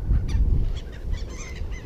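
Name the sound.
seagulls calling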